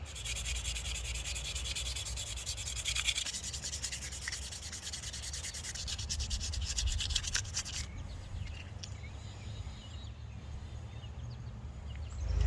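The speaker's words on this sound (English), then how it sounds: "Finished doing the fine sanding on this." Continuous scratchy rubbing of sandpaper on a wooden knife handle during fine sanding, close and steady for the whole stretch, easing slightly near the end.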